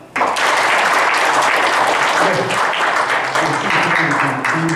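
A crowd claps at a launch ceremony for a news platform, dense applause starting abruptly and carrying on steadily while a voice talks over it in the second half.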